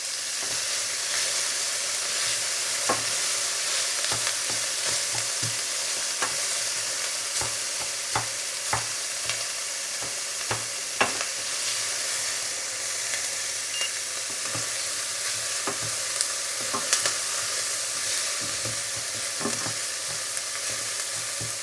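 Onions cook gently in a pan until translucent for a chicken and broccoli pie, a soft, steady sizzle with scattered crackles and occasional utensil taps, quiet and close, with no talking.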